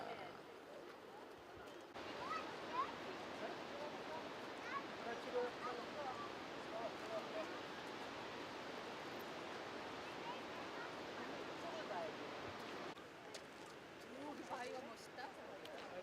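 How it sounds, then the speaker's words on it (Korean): Bow Falls in Banff, Canada, sends up a steady, broad roar of falling water heard from close by, constant and moderately loud, with faint voices in the background. "우리 형제들 지금 보호 폭포 앞에서 촬영하고 있습니다"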